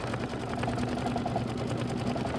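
A computerized embroidery sewing machine stitching out a quilting stitch on a Kimberbell block, with a fast, even mechanical whirring hum and rapid needle pulses, steady and fairly quiet throughout.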